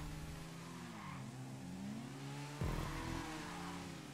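A motorcycle engine in GTA Online revs hard with a nitro boost, its rising and falling whine sweeping up and down, then a sudden louder surge as the boost kicks in, with continuous engine drone throughout.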